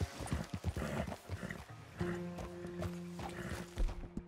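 A horse walks in Red Dead Redemption 2, with quiet, uneven hoof clops and a snort or soft whinny in the background.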